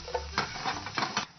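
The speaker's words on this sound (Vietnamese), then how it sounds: "Sau khi chảo vào dầu nóng chúng ta sẽ cho một ít tỏi, hành tím ha." Garlic, shallots and lemongrass fry in hot oil as a utensil stirs them in a pan, giving a steady sizzle with several scraping strokes close up.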